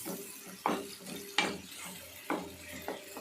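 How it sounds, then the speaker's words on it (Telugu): Onions frying in oil in a pan at medium heat give a soft sizzle, broken by four or five sharp stirring scrapes of a utensil against the pan, quiet and close. "మంచి గోల్డెన్ కలర్ వచ్చేంత వరకు ఈ ఉల్లిపాయని వేపుకోవాలి"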